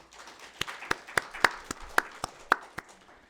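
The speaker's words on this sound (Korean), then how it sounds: "박수하겠습니다" Scattered hand claps from a small church congregation during a Sunday worship service, about eight sharp separate claps in an uneven rhythm, moderately close over a quiet room.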